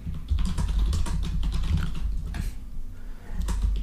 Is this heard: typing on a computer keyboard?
yes